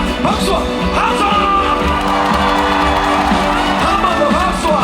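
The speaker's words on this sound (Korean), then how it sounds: "다같이 박수와 함성!" Concert crowd at an outdoor apple festival in Mungyeong clapping and cheering steadily with whoops and shouts, a dense continuous roar with music underneath throughout.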